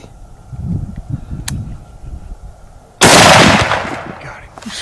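A single loud rifle shot during a deer hunt, a sharp broadband crack followed by a rolling echo, coming after a stretch of quiet rustling and low voices.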